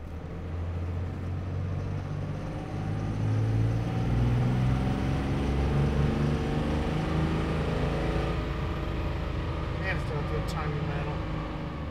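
A 2006 Dodge Cummins diesel pickup with EFI Live tuning roars steadily on a chassis dyno, its loud low engine note building and holding for several seconds before easing slightly, with talk faintly underneath.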